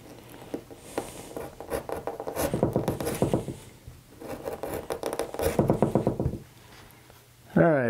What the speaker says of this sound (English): I need to thin this out a little bit here because this is gonna fold over